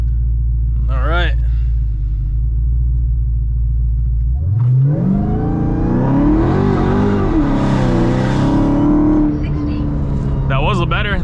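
A Hellephant-swapped Chrysler 300 launches hard with its tires spinning, the engine roaring up through a long, loud rising sweep that holds near and steady before easing off; brief talk comes just before and after the run.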